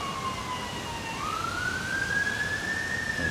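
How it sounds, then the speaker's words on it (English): A distant police siren wails, its pitch dipping then sweeping up into a long rising tone over a soft background hiss of traffic, heard from within a Royal Park. "You can hear the police in the background."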